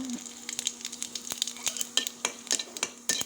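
Cumin seeds and dried red chillies crackle and sizzle in hot frying oil for a radish stir-fry, a quiet run of sharp popping spits over a soft hiss, with a faint steady hum behind.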